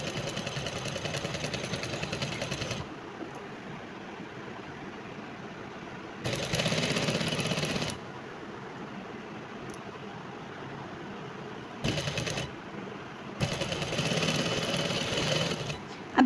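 Sewing machine stitching a dress seam, running in several bursts of steady mechanical whirring lasting one to a few seconds each, separated by quieter pauses with a faint background hum.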